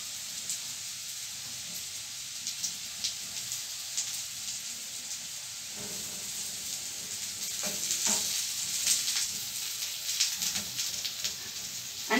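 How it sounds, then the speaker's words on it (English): Food frying and browning in a pan over medium-low heat gives a steady close sizzle with scattered pops and crackles that grow a little busier toward the end, with no talking. "Allow them to fry a bit and brown."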